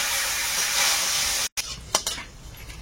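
Bay leaf and five-spice seeds hit hot oil in a wok with a loud, dense sizzle, then after a brief cut the frying continues more quietly with sharp pops and spatters.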